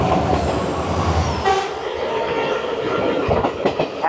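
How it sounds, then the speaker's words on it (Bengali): The Runicha Express passenger train, running between Delhi Cantonment and Gurgaon, rumbles steadily along the track with a rhythmic clatter and a brief horn toot, loud and close. "দিল্লি ক্যান্টনমেন্ট থেকে গুরগাঁও পর্যন্ত আমাদের এই রুনিচা এক্সপ্রেস চলবে 17 কিলোমিটার"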